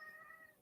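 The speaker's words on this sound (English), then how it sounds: "that was quite a meow" A cat gives one very faint, drawn-out meow, heard distantly in a quiet room for well under a second.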